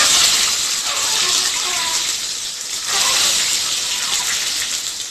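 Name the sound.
boiled eggs frying in hot mustard oil in a kadai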